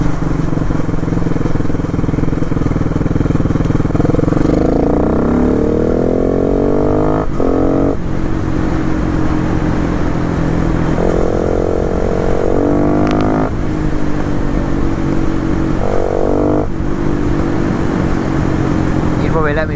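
A 2011 AJP PR4 200 supermoto motorcycle rides on a wet road, its engine droning loudly and rising and falling in pitch through repeated gear changes, with wind noise and some talking over it.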